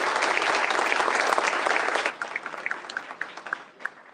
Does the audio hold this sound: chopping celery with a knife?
no